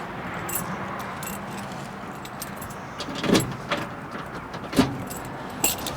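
A large bunch of keys jingles in bursts, with sharp metallic rattles standing out over a low background hum, as someone searches for the ignition key for a 1959 Chevy Apache with a universal ignition switch.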